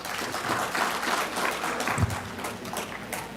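An audience at an AGM opening ceremony applauds after a deputy premier and minister of health is introduced, a soft, steady patter of many hands heard from a distance in a large hall.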